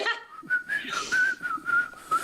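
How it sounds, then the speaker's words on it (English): A person whistles a short, wavering tune live in a studio, the clear, close pitch sliding up and down over a couple of seconds with a few breathy breaks, no speech over it. "We forget little things like teaching our children how to whistle."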